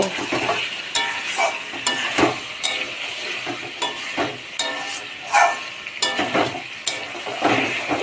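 Chicken kasha being stirred in a pan, with a spoon scraping and knocking against the metal at irregular intervals over a soft, continuous sizzle of frying meat, fairly close and without talk.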